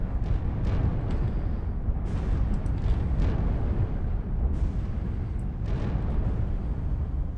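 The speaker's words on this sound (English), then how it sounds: "There's weapons fire from all directions." Space combat in Void Destroyer 2 keeps up a continuous roaring rumble of weapons fire and explosions, loud and dense throughout, with sharper bursts popping out every second or so.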